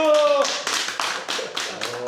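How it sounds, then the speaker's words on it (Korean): A short burst of rhythmic hand clapping from a small group at a company's 23rd anniversary ceremony, loud and close, following a brief high tone. "박수!"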